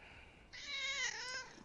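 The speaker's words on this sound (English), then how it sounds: "There's the kitty." A cat gives a single clear meow of about half a second, close by and moderately loud against quiet room tone.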